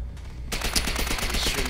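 Gunfire in the Call of Duty: World at War video game erupts after a quiet half second into a dense, continuous burst of rapid shots, loud and close, with a busy battle din behind.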